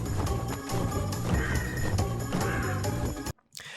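Crows caw repeatedly in the Stormy Ascent level of Crash Bandicoot N. Sane Trilogy, harsh calls over a dense, steady game music bed, which cuts out abruptly near the end.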